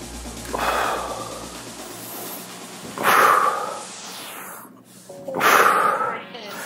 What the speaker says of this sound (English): Inhale down, exhale up.